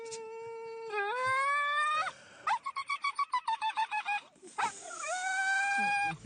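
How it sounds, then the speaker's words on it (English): A worked-up spaniel produces a high, whistling wail like a kettle or a broken flute, with a stretch of quick stuttering yelps in the middle, loud, near and sustained. "It sounds like a kettle or a broken flute."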